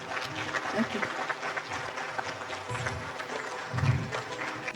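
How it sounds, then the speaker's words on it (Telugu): A group claps together after a guided meditation session, a short burst of indoor applause with some speech mixed in. "చక్కని ధ్యానం చేసినందుకు మనందరం చప్పట్లు కొడదాము"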